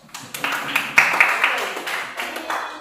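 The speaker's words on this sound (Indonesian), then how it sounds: "Berikan aplaus." Applause in a classroom during a history lesson, a short burst of scattered hand claps from a group of students, moderately close and lasting under three seconds.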